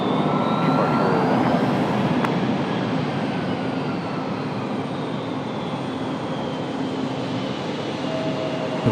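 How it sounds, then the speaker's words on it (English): An Airbus A220 airliner taxis to the gate at Raleigh-Durham airport, giving off a steady jet engine whine and broad rumble that holds evenly at a moderate distance, with no voices. "one of my favorite aircraft there, the A220, as they slide by to the gate"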